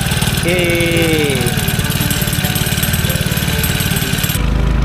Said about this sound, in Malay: start dah enjin.